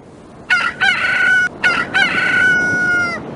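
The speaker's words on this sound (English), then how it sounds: "A rooster." A rooster's crow from the PC game Clifford Musical Memory Games: two loud, close crowing calls in quick succession, each made of a short rising note and a long held cry, with no talking.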